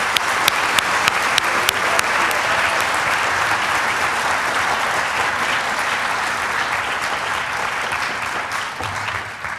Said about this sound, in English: give a big round of applause to this year's Secretariat for their amazing work